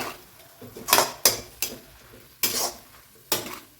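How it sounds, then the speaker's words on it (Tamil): Spinach greens with pepper and tomato wilting in a pan, stirred with a utensil that scrapes and clinks against the metal in several sharp strokes over a soft sizzle. "இன்னும் நல்லா வதங்கணும் நமக்கு கீரை"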